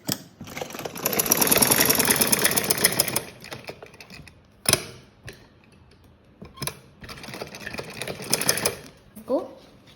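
Sewing machine stitching kurti fabric for a frock-style kurti, a loud steady whirring run for a few seconds, then short bursts of stitching separated by pauses and handling sounds.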